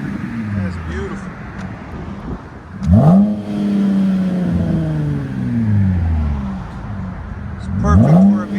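Revving RAM 1500 pickup with a 3.6L V6 and aftermarket exhaust: deep, loud rises and falls of engine pitch, three strong revs with a long sweeping pull between them, and voices talking alongside.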